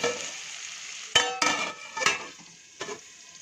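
Green chillies and onions frying in a pan for aloo bonda: a soft, steady sizzle broken by four quick scraping stirs against the pan, close by, with no voices.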